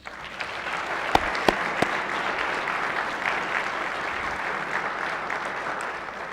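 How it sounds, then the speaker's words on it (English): Applause from the Senate gallery fills the chamber, a steady wash of many hands clapping for honored guests, with a few sharper claps standing out near the start and no talk over it. "Please give them a warm round of applause."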